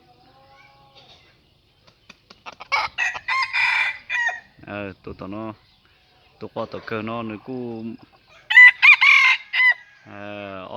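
A white rooster crows with loud, bright calls around the middle and end, mixed with short clucks, while people talk nearby in between.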